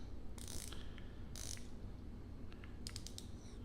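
A stiff GMT bezel on a Squale watch is turned and gives a few short bursts of quiet, close mechanical clicks in small clusters with pauses between them.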